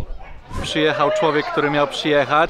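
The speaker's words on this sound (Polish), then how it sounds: "szczekające psy" Several dogs barking repeatedly in a waterside village in Papua New Guinea, rhythmic yaps at mid distance heard under someone speaking.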